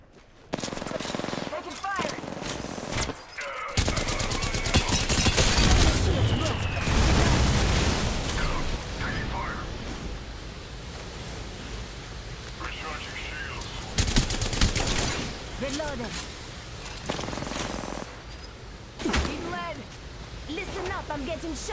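Sustained bursts of automatic gunfire from an Apex Legends firefight, loud and close, with rapid volleys, booming impacts and pauses between exchanges, mixed with a player's excited talk.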